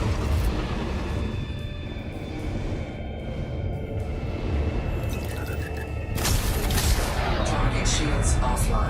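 Small, worn-looking frag cannons fire in the space combat game Elite: Dangerous as a dense, continuous barrage of booming shotgun-like blasts, with a louder, sharper volley near the end.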